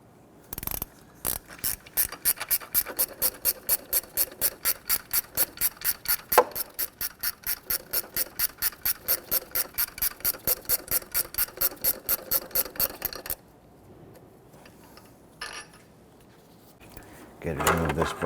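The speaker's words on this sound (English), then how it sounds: "loosen and remove this upper bolt" A ratchet works loose a 14mm bolt on a bracket of a 1992-1996 Toyota Camry 2.2L four-cylinder engine, giving a long, fast, even run of loud metallic clicks close by, then a pause with light handling noises.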